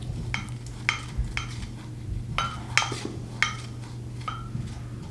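A wooden spoon handle scrapes and taps rhythmically inside a bowl, mixing a thick clay face mask in repeated short strokes over a low steady hum, close up with no voices.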